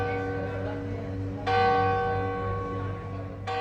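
A church bell in the Mezquita bell tower in Córdoba, Spain, strikes twice, each clang blooming into a long ringing hum that carries over a constant low drone.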